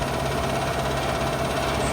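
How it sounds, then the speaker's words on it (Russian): A DT-75 crawler tractor fitted as a field profiler, its engine running with a loud, steady, dense drone and an even low rumble throughout, no pauses. "Еще один профилировщик на базе трактора ДТ-75"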